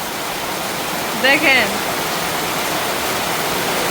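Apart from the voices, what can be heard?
heavy rain falling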